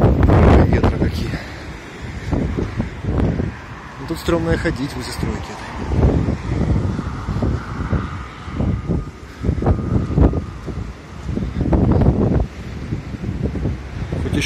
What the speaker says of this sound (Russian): Порывы, конечно, сумасшедшие.